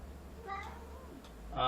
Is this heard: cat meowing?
yes